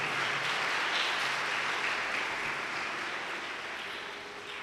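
A church congregation applauds after a Mother's Day greeting, steady crowd clapping that holds evenly and slowly fades toward the end, with no talking over it.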